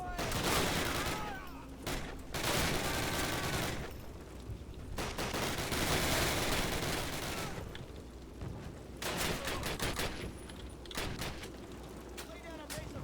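Dense, relentless gunfire rages through a Call of Duty D-Day battle, with loud overlapping rifle and machine-gun bursts rolling on and off alongside shouted voices throughout.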